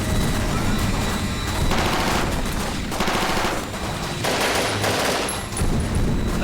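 Sustained laser gunfire in a sci-fi action battle: rapid repeated bursts in heavy waves, loud and continuous across several seconds with no clear speech.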